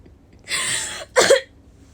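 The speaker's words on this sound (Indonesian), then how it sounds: "Aduh kan jadi batuk" One person gives a short double cough, first a breathy burst and then a sharper, louder one, close to the microphone in a quiet room.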